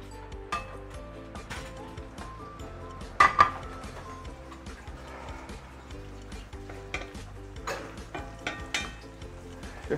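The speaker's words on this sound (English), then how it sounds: "And we want to stir fry our loofah." Loofah stir-fried in a pan with garlic oil, a faint sizzle under light spatula clinks and scrapes against the pan, with one sharper knock midway.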